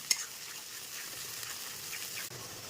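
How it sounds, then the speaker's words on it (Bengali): Spice paste with whole garam masala sautéing over a low flame, a soft steady sizzle with faint stirring, close and continuous. "এবার এটা লো ফ্লেমে ভালো করে কষিয়ে নেবো।"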